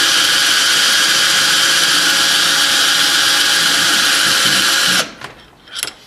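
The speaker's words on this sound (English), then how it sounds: "I've just connected it to a drill motor here, and I'll show you how slowly this planetary gear set actually spins." A drill motor of about 1200 RPM spinning a planetary gear set from an electric winch whirs steadily and loudly at a constant pitch for about five seconds, then cuts off, leaving faint clicks and rustles.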